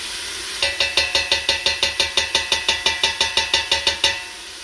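Peas and onions sizzle over high heat in a pan, with a steady frying hiss under a quick, even run of rhythmic taps that lasts several seconds before stopping.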